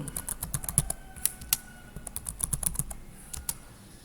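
Typing on a computer keyboard while entering Cisco router configuration commands, a run of sharp close key clicks in uneven bursts with a few louder keystrokes, no talking.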